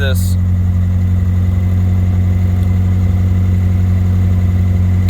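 A Nissan S14 with an SR20DET turbo engine idles while warming up, a loud, close, steady drone holding constant revs throughout.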